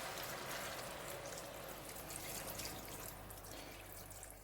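Water pours steadily into a pan, a continuous rushing splash that stays fairly even throughout with no talking.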